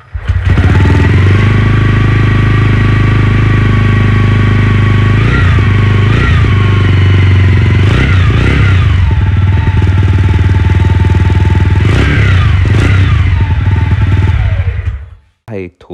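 A TVS Ronin motorcycle idles loudly and close up with a deep, steady exhaust thrum, blipped into brief revs several times before cutting off near the end.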